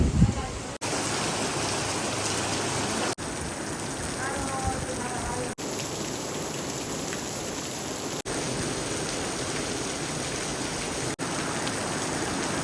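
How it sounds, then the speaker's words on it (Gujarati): Dense, steady downpour hissing continuously at close range, loud and unbroken for the whole stretch, with a few brief cuts. "ઘણો વરસાદ વધી ગયો છે"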